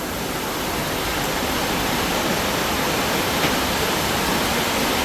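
Heavy rain pours down steadily and loudly, a dense unbroken roar of water with no voices, like rainwater gushing during a downpour in Junagadh.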